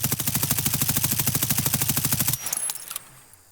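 An M4A1 rifle in Escape From Tarkov fires a rapid, evenly paced stream of shots for over two seconds, loud and close, before stopping and leaving a brief fading echo.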